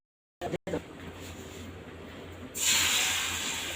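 Egg omelette frying in a home kitchen pan, a steady broad hiss that swells louder partway through as the egg hits the hot oil, with a low hum underneath.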